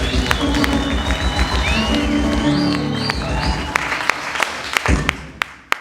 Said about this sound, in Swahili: Piga kwa Yesu makofi mengi.